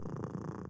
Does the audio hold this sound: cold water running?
no